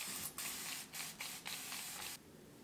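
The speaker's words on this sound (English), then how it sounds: "I am going to spray this with water." Several quick hissing sprays of water from a spray bottle onto hair, about five short bursts in an uneven rhythm, close up.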